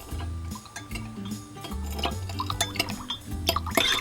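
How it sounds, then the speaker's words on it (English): Ice cubes clinking against a glass as an iced coffee drink is stirred, a steady run of light clinks and ticks with a faint liquid swirl under background music. "Stir this up a little bit."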